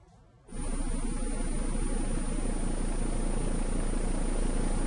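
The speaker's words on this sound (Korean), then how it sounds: "똑같은 조건에서 스텔스 헬기의 프로펠러가 돌아가는 소리를 들어보시죠" A stealth helicopter's propeller spins in a steady, dense whooshing roar that starts abruptly and holds at a constant loud level throughout, with no voices.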